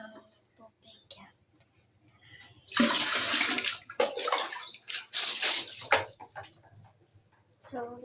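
Water running and splashing during a bath, a loud steady gush in two long stretches with quieter pauses between, close up, with a voice talking softly before and after.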